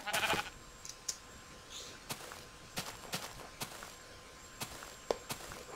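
A Minecraft sheep gives a short bleat near the start, followed by sparse, evenly spaced clicking footsteps and small game sounds on a quiet background.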